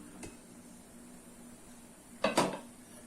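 Steamer lid lifted off after steaming kozhukattai: a faint clink early on, then a louder metallic clatter and scrape near the end, close by over quiet room hiss, with no talking.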